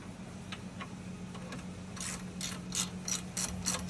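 A hand ratchet tightening bolts during a front wheel bearing replacement on a 2017 Subaru Crosstrek, close and fairly quiet, with a few light clicks and then a quicker run of sharp ratcheting bursts.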